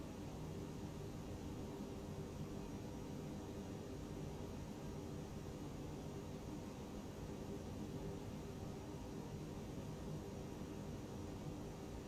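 A Toliss Airbus A320-251 airliner in flight in X-Plane 12, heard as a faint, steady cabin rumble and broadband hiss with no talk.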